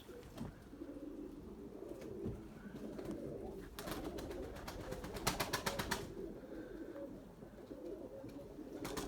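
Pigeons of a flying flock coo in soft, repeated calls, with bursts of wing flapping and clatter in the middle, all at moderate distance with no talk.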